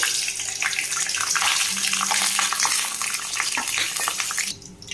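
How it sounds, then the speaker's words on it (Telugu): Eggs dropped into hot oil give a dense, steady sizzle and spatter that lasts for several seconds with small crackles, then thins out abruptly near the end. "ఆయిల్ కాగింది, ఎగ్స్ వేసేసుకుందాం."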